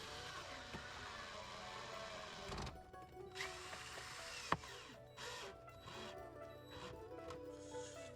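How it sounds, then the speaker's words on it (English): A power drill drills into the console of a 1991 Ford Mustang Fox Body in short bursts with pauses between, fairly close, with a sharp knock partway through and low background noise. "I'm gonna drill into mine because I don't really care."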